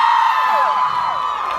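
A live crowd at a show in Freehold, NJ, cheers and whoops loudly in a continuous, dense wash of rising and falling voices for the whole moment.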